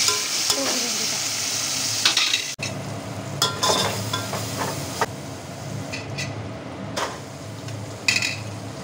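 Tomatoes and green chillies sauté in a hot pan with a continuous close sizzle, punctuated by scraping stirs and occasional clanks of the utensil against the pan. Nobody speaks.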